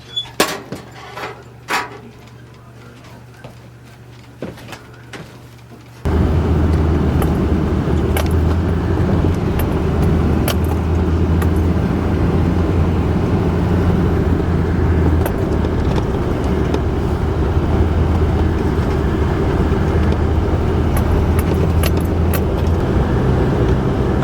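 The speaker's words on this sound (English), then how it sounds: "to start the truck today, let it warm up since it's so cold, and take a little drive" A pickup truck engine cranks and catches on a cold winter day, then settles into a steady, loud idle to warm up; a few faint clinks precede the start.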